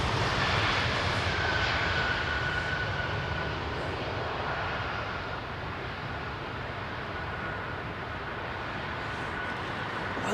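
An airliner landing at London Heathrow Airport, a loud sustained engine roar with a high whine that stays steady and close and then eases slightly, with no talk.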